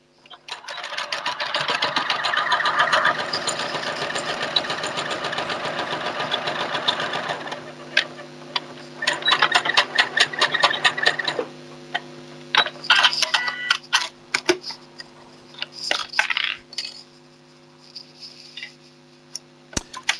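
A sewing machine sewing a pleat, with a fast, steady whirring run of stitching for several seconds, then shorter bursts of stitching separated by pauses and small mechanical clicks, heard close by.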